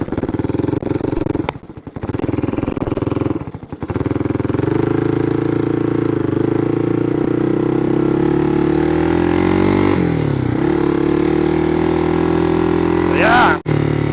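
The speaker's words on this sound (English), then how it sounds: "Fourth gear's working." Engine of a cheap used three-wheeler running steadily in fourth gear, a loud, continuous close drone with slight pitch shifts and a couple of brief dropouts, with no talk over it.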